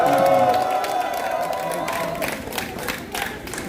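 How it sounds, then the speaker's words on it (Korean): A rally crowd at an outdoor candlelight gathering claps and cheers together, a loud sustained burst of applause with whoops that gradually thins toward the end. "여러분들 반가우면 박수 한번 보내주십시오."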